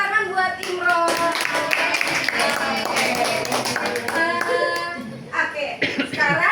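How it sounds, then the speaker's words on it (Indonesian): Children in an elementary school classroom clap together in quick, lively rhythm close by, mixed with excited young voices calling out over the claps. "Tepuk tangan buat Imron."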